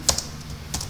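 Computer keyboard keys pressed as copy and paste shortcuts while working on a C program: four quick, close clicks in two pairs over a low steady hum.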